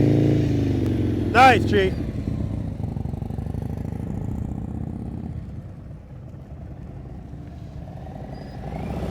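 A motorcycle engine rumbles and rises in revs as the rider makes a slow-speed U-turn during riding practice, with a short spoken remark over it early on.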